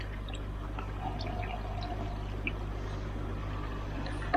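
Water flowing steadily down the centre tube of an Eazypod filter at a koi pond, a constant rushing, trickling wash with low rumble underneath.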